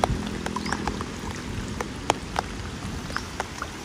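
Rain falls steadily during a heavy downpour outdoors in a Vietnamese marsh area, a dense pattering wash with scattered sharper drop hits and taps standing out against it.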